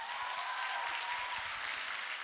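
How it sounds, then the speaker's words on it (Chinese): Audience applause at an Atomy company Star Master promotion event, a steady, fairly faint wash of clapping lasting a couple of seconds with no voices over it. "给他一个掌声。"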